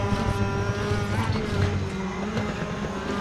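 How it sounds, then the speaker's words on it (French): A single-seater race car in RaceRoom drives with a continuous engine whine and tire squeal, sustained and fairly loud throughout with no break. "Avec le crissement des pneus,"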